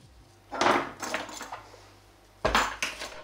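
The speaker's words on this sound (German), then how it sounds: "Und natürlich immer schön umrühren das Ganze" Apple pieces with lemon juice and sugar are stirred in a pot, producing two short bursts of close utensil scraping and knocking separated by a quiet pause, with no voices.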